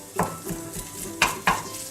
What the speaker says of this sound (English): You can hear that little sizzle now.